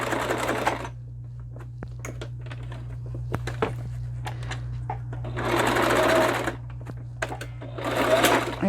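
A sewing machine runs in several short stitching bursts, close by, with a steady low hum beneath and clicks and handling noises in the pauses between runs.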